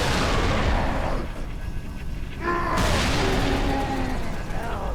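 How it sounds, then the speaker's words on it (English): Heavy tank cannon blasts in Halo: Reach, with loud booming shots and a big blast near the middle, each followed by a decaying rumble, over dense battle noise. "you can just sit there and blast them with the tank"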